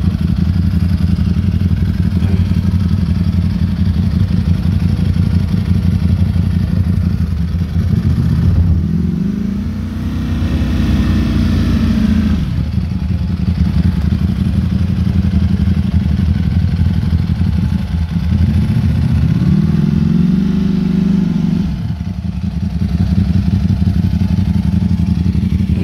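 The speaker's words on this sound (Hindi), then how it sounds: "ड्राई क्लच की आवाज़ सुन।" A BMW S1000RR SP edition sportbike idles with a steady, loud engine drone and a dry clutch rattle. Twice the engine is blipped, rising and falling in a revving swell before it settles back to idle.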